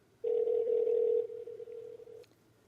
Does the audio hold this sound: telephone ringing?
yes